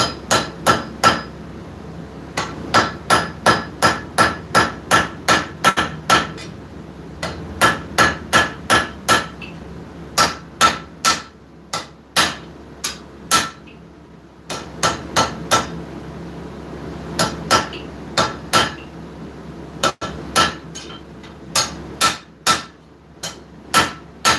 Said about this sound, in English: grab our straight peen right here, use that straight peen, come in here, clean up this little area with little blows